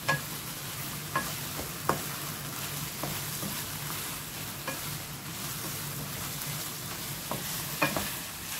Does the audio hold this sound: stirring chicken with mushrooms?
yes